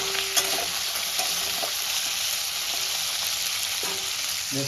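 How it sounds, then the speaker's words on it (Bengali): A rohu fish head fries in white oil in a hot wok, giving a loud, steady sizzle with a few clinks and stirring scrapes, and no talk. "সাদা তেল দিয়ে মাছের মাথাটা আমি ভাজবো। মাছের মাথাটা লাল লাল করে ভেজে নেব।"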